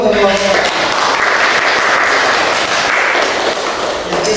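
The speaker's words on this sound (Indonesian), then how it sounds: "Kita beri aplaus dulu untuk kelompok" A group receives steady, dense applause in a classroom setting after presenting their discussion, as loud, continuous clapping sustained throughout.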